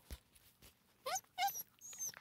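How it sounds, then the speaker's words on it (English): A two-month-old Australian Shepherd puppy growls and yips in short bursts while playing, close to the microphone, with brief pauses between the sounds. "being attacked by a puppy. By a 2-month-old Australian Shepherd with a tail."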